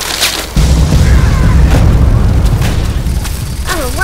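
A grenade goes off in Fallout 3 with a single loud, deep boom whose low rumble rolls on for a few seconds, and a voice briefly comes in near the end.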